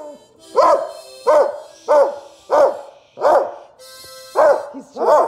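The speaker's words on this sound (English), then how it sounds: "He's just barking." A dog barks in a steady series of about seven loud, close barks spaced roughly evenly, with no talking over them, in a home on Christmas Day while presents are being opened.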